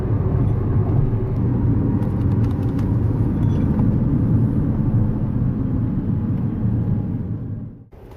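Steady low engine and road rumble from a car driving into a park beside a pond, loud and continuous without talk, fading as the car slows and stops near the end.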